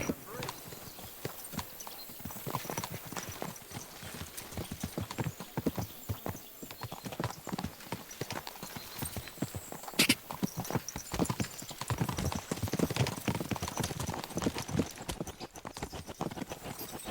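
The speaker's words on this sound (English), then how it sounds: "Easy, good horse." Horse hooves clip-clop steadily on the ground in Kingdom Come Deliverance 2, a quiet, continuous clatter of rhythmic footfalls beneath voices talking, with one sharper knock partway through.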